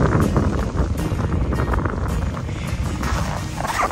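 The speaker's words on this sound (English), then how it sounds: "Oh my goodness, it's so cold. It's windy." Steady gusty wind buffeting the microphone outdoors on ice at -16 degrees, a continuous rumbling roar with no talking.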